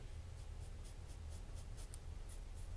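FU42 balisong knife blade shaving hair, a faint, quiet scratchy rasp repeating in short strokes, heard close and alone.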